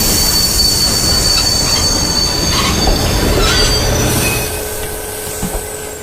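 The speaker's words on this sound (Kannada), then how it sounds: "Pull the chain to stop the train." A train brakes hard after the emergency chain is pulled, its wheels letting out a loud, sustained metallic squeal over rumbling rail noise that eases off toward the end.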